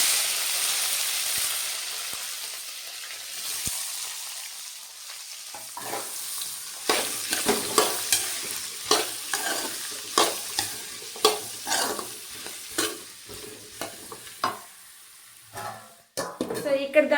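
Ivy gourd (dondakaya) curry frying in a pan on the stove, a steady sizzle broken by a run of sharp, rhythmic scrapes and clacks as it is stirred, close by with no talking.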